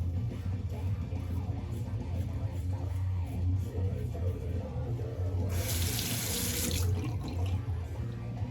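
Tap water running into a sink while rinsing off after a double-edge razor shave with bowl-lathered soap, a steady close splash that swells louder and brighter for a second or so near the end.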